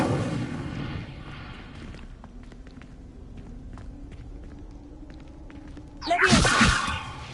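An Incendio fire spell cast in Hogwarts Legacy: quiet footsteps and soft ambience give way to a sudden, loud whooshing flare of flame near the end.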